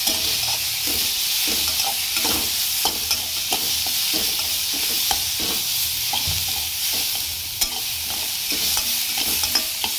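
Cumin seeds and cashews roasting in a pan, a steady close sizzle with a regular rhythm of stirring scrapes running throughout.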